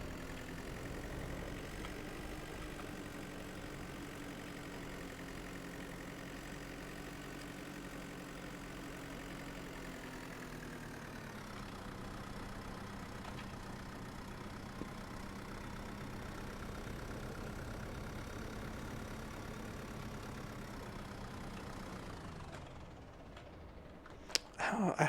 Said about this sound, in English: I also really like how the engine doesn't shut off immediately.